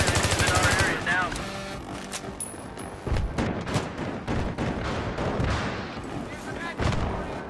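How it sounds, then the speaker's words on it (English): Battlefield 3 combat with a Bradley armored vehicle nearby: loud bursts of gunfire and booming explosions crowd the soundscape, rapid rattling shots in the opening second, then rumbling blasts and scattered shots throughout. "I hear the Bradley coming down"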